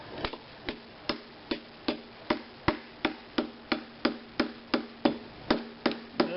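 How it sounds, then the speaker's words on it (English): A hammer pounds the metal of a torchiere floor lamp under repair: about seventeen sharp, close blows in a steady, even rhythm, with no talk. "I'm going to kind of bend and then shape it with a hammer and stuff."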